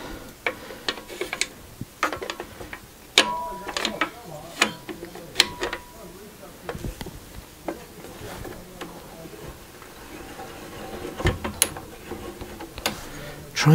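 Ratchet clamps in a workshop are cranked tight, giving a steady series of sharp clicking ratchet pawl ticks close by, with brief pauses and faint handling noise.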